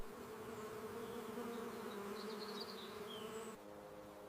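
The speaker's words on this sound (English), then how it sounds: "Repairs begin immediately as the hive returns to its rhythm." A colony of bees fills a hive with a steady, dense buzzing hum, many wings droning together close by, the sound continuous and even throughout with a slight drop in level near the end.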